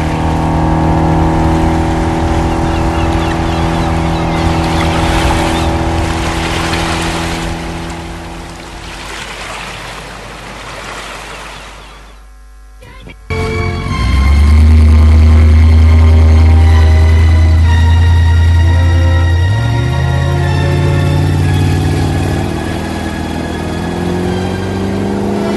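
A roaring escape-vehicle engine in a French audio drama swells loud and steady, then drops away briefly before surging back with a deep, heavy drone and rising pitch, as a fast machine pulls away.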